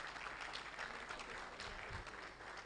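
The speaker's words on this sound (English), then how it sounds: "Please clap for him." Audience applause at the IOSH West Africa Conference 2023, a fairly faint, steady patter of clapping hands from a seated crowd lasting a few seconds.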